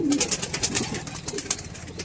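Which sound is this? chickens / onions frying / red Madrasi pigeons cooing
red Madrasi pigeons cooing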